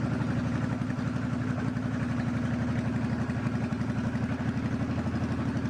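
A motorcycle on a home driveway runs at a steady, rhythmic idle: a loud, even low throb from close by that continues throughout with no talking.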